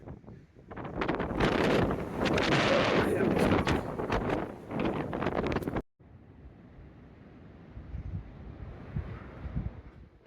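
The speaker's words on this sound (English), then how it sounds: "it's super windy this morning" Strong wind buffets the microphone in loud, rough gusts high up on a fire tower in Georgia, then drops abruptly to a quieter, steady outdoor rush.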